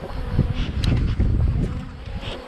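Wind buffets the microphone outdoors while a beekeeper checks a colony on a summer day, a continuous low rumbling roar with gusts and faint rustling and no clear talk.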